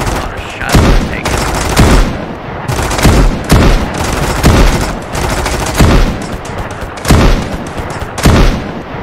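Repeated bursts of video game gunfire from Mist Survival, loud and close, with about eight heavy volleys spaced roughly a second apart over continuous rumbling background noise.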